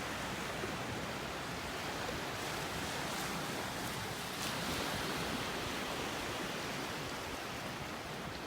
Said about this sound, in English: Beautiful out here with the little waves.